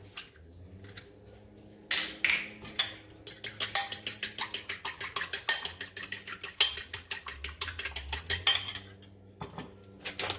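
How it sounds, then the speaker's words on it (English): An egg is beaten in a bowl with rapid, rhythmic clinking strokes of a utensil against the side, close and crisp. A brief pause comes before a steady run of quick strokes, and there is no talking. "We're gonna beat our egg up over here."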